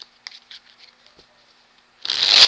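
A deck of oracle cards gives a few light, scattered taps, then a brief close riffling burst as it is shuffled at the end.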